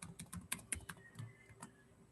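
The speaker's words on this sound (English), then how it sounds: "Now I'll just type in my password" A password is tapped out on a computer keyboard as a quick, quiet run of separate key clicks with small gaps, close by and alone.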